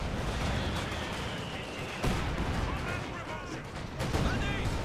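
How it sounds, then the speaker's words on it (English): Artillery barrage from a Soviet ZiS gun in Company of Heroes 2, with a steady roar of dense booming blasts and two heavier impacts landing partway through, loud and continuous. "Oh, beautiful Zis barrage there."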